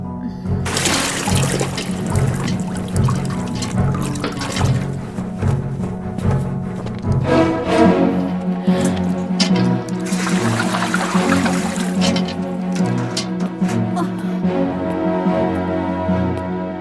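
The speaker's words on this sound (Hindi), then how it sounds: "जाओ इसका मटका पानी से भर दो" Water is poured steadily into a clay pot in an animated scene, a continuous splashing, gurgling stream that sounds close and fairly loud throughout, with no voices.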